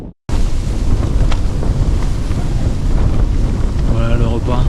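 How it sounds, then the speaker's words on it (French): Wind blowing outside a tent at Cho Oyu camp 2 at 7100 metres, a loud, steady buffeting roar after a brief pause, with someone briefly talking near the end. "Il y a un peu de vent dehors."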